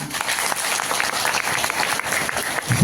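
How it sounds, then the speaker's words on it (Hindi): Loud, dense applause from an audience at a satsang gathering in Ghaziabad, sustained and even across the whole stretch and swelling slightly at the end. "तो एक बार इनके लिए जोरदार तालियां।"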